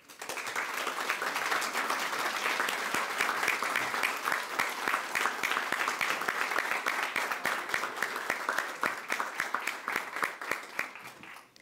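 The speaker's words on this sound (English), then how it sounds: "I also kindly ask that all members of the Domestic Violence Coalition please stand as we all give you a big round of applause." An audience gives a long, sustained round of applause for the Domestic Violence Coalition at a proclamation event in Laredo, Texas. Sharp, distinct claps blend into a steady roar that fades only at the very end.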